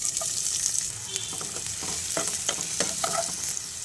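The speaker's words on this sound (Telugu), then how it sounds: "ఇందులోనే సన్నగా కట్ చేసి పెట్టుకున్న ఒక మీడియం సైజ్ ఆనియన్ని వేసుకోవాలి." Sliced onion and cumin seeds fry in hot oil in a pan for fried rice, giving a steady loud sizzle broken by scraping stirs and light clinks from the utensil.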